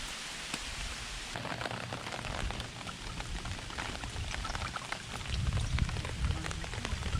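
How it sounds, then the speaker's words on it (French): The first rain on a tropical island in Thailand patters steadily onto surfaces nearby, with dense drops that grow heavier and louder toward the end, and no talk over it. "Hop, première pluie sur cette île."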